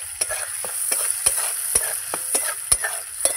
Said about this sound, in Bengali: এই যে চিংড়ি মাছটা আমার ভাজা হয়ে গেছে, এবার তেল থেকে উঠিয়ে নেব।